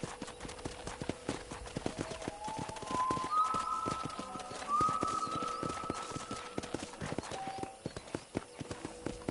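Horse hooves clip-clopping at a steady walking rhythm in the Western game Red Dead Redemption, close and continuous, with faint tonal music or calls and soft background sound.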